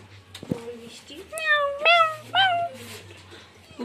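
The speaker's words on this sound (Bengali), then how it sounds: "ম্যাও ম্যাও করছে।" A cat close by gives three or four rising and falling meows in quick succession over a low background hum, with people talking around it.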